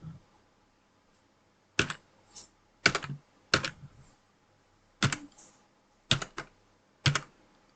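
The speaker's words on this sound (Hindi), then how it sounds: "इस सिक्योरिटी कोड को यहाँ पे क्या करना है, आपको टाइप कर देना है" Computer keyboard keys tapped while entering a security code on a web form, heard as about seven short, crisp bursts of clicks spread across several seconds, close and clear, with quiet pauses between them and no talking.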